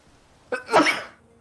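A single sharp sneeze, close and fairly loud, with a short intake and an explosive burst lasting about half a second, heard alone against a quiet room.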